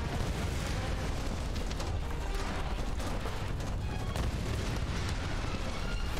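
Old gunpowder cannons fire continuously in the action game Tomb Raider (2013), a dense roaring wall of booming blasts and rumbling explosions that stays loud and unbroken throughout.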